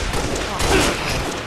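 DMR rifle fire in the video game Halo Reach cracks out as a loud, close burst of shots over dense game noise, with a voice partly audible underneath.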